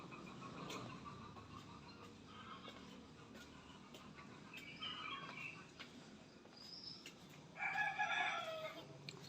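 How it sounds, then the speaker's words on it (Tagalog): Chickens cluck and a rooster crows on a small farm in Medikudan, with scattered bird calls close by and a louder crow near the end, all over a faint outdoor background. "Tingnan natin yung ating mga manok dito sa Medikudan."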